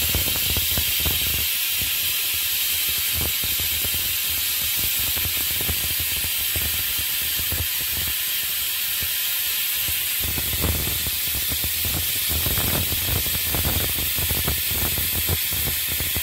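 Grated coconut dry-roasting in a pan for a homemade Malvani masala, giving a steady soft sizzling hiss throughout with faint scraping and stirring, close and continuous with no talk.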